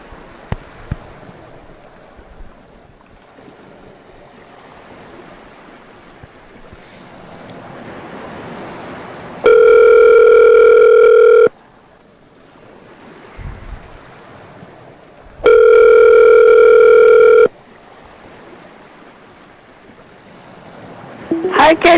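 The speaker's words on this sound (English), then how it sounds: "Alright, let's call Mr. Ginsu." A telephone call being placed, with two long, loud ringback tones separated by a few seconds of quiet, over a faint background hiss.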